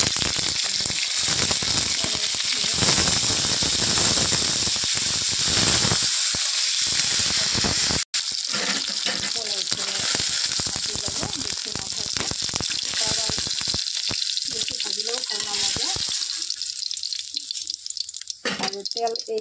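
Vegetables frying in a little oil in a wok, with elephant foot yam and flowers among them. A steady close sizzle carries on throughout, with occasional stirring scrapes, a brief sharp break near the middle and quieter patches toward the end.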